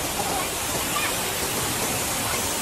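Lower falls of a waterfall at Gulong Canyon, China, give a steady, loud, broadband roar of rushing water with no breaks, heard close up.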